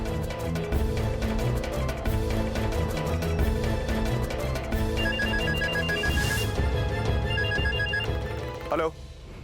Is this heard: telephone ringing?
yes